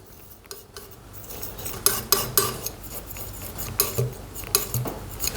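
A palette knife or brush scrapes and taps as acrylic paint is mixed with titanium white on a palette, producing a series of close clinks and scrapes in an irregular rhythm.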